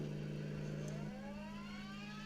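Volkswagen car engine in the racing game Need for Speed Undercover, a steady low drone that shifts down midway, then a faint rising rev builds under the constant hum.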